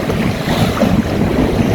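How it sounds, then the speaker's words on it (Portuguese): Strong wind buffets the microphone while a sailboat cuts through choppy waves, a dense, loud, continuous roar of rushing air and splashing water with no voices. "Agora sim, fazendo a travessia com o vento mais tranquilo."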